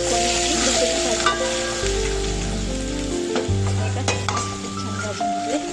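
Chopped onion and coriander powder sizzle in a pan while a spoon stirs them with occasional light scrapes, a steady frying hiss running throughout beneath sustained background tones.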